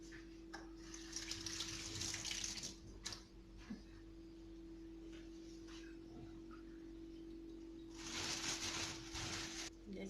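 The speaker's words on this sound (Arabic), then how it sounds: "صافي نغسل يديا باش ما يتوسخوش ليا الميكات." Hands are washed under a running kitchen tap in two bursts of splashing water, one early and one near the end, set against a quiet steady hum.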